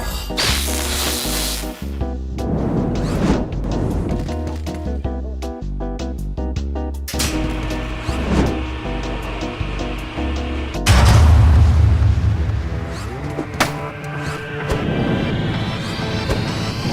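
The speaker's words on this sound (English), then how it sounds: "The sound of the hammer shattering the human." A hammer smashes an enemy in the video game Clone Drone in the Danger Zone, heard as heavy game impacts and crashes under a loud, busy soundtrack, ending in a big booming hit near the end.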